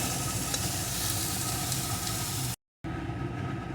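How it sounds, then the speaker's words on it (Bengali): Eggplant slices frying in oil in a wok produce a dense, steady sizzle, loud and close, cut by a short silent gap before resuming. "বেগুনগুলো খুব বেশি আমি ভাজবো না এরকম ভাজা হলেই আমি বেগুনগুলোকেও তুলে নেব"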